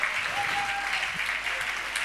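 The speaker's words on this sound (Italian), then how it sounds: "Allora applauso al Nada Mas" An audience applauds in a club, giving a steady, dense patter of clapping with some cheering mixed in that lasts throughout.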